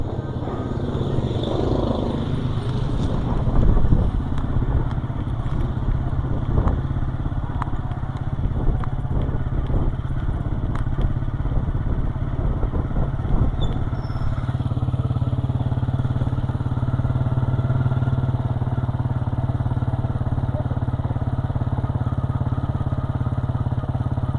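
A motorbike is ridden at night over a bridge road during the Arbaeen walk toward Karbala, its engine giving a steady low drone close by for the whole ride, with faint rattles and passing noise over it.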